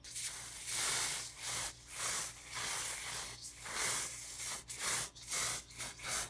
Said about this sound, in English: There is 2 light spritzes.